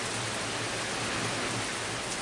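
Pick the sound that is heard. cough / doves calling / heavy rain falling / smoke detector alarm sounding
heavy rain falling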